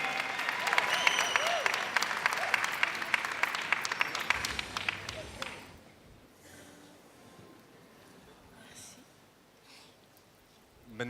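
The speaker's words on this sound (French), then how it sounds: "Ovation pour la candidate numéro" Ovation from an audience for candidate number four at a competition: loud, dense applause for about five seconds, then dropping sharply to a faint room murmur with scattered small noises.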